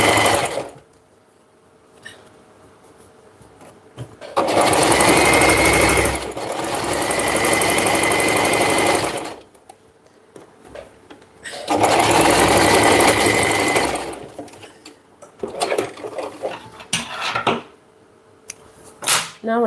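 A sewing machine stitches the sides of a garment in two long, loud runs of rapid mechanical whirring, separated by quieter stretches of handling noise and small clicks.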